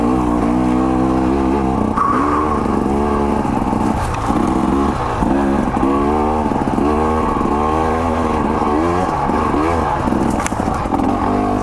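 A 2024 KTM 300 XC W dirt bike rides a wet morning trail, its two-stroke engine revving up and down loud and close with repeated shifts through the gears.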